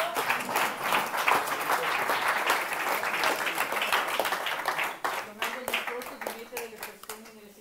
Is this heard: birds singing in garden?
no